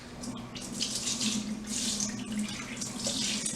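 Cool tap water runs steadily from a kitchen faucet while rice is rinsed, a continuous close splashing hiss with slight swirling changes and no voices.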